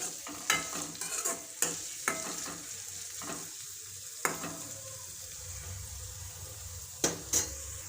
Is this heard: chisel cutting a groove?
no